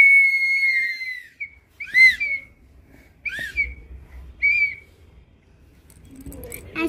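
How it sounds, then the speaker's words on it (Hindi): Two people blow whistles in a run of short, piercing bursts that overlap and alternate, loud and close. A voice and some noise come in at the end. "दोनों लगे हैं सीटी बजाने में गाइस"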